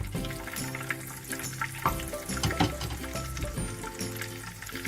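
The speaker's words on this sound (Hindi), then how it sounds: "अब मैं इसके अंदर डालने लगी हूँ ग्रीन चिलीज।" Green chilies frying in hot oil with cumin in a pan, a steady close sizzle with a few louder bursts as the chilies hit the oil, no talking.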